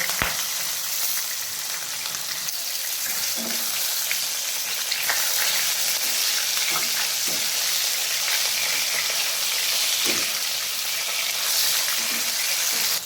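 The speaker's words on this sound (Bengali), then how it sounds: "এরপর আমি মাছের উল্টো সাইডটা ভেজে নেব।" Rohu fish pieces frying in mustard oil, the second side cooking, with a steady, dense sizzle that runs unbroken throughout and a few soft clicks and taps, no voices.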